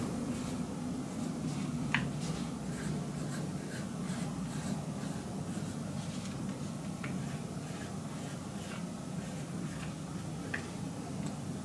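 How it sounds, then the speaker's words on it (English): Pencil scratching steadily on paper while a bookmark design is sketched, a soft continuous scritching with a few sharper ticks, close and quiet with no voices. "I'm gonna kind of sketch with a pencil, and then I'll color over it with a crayon."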